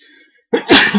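A single loud, close sneeze bursts out after a brief quiet moment.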